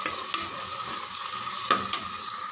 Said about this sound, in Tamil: நல்லா சேர்த்து 2 நிமிஷம் நல்லா வதக்குங்க.